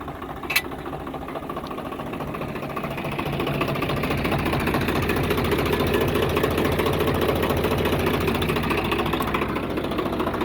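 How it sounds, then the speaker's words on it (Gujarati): A tractor engine running in a farm field, a steady, rattling, mid-pitched drone that grows slightly louder after a few seconds and holds on without pause, with no talk. "આ બાજુ આપણું ટ્રેક્ટર હાલે છે"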